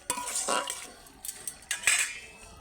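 A prawn and greens curry with mustard oil being stirred in a pan, heard as a few close metallic scrapes and clinks of a spoon against the pan in short bursts, with quieter gaps between.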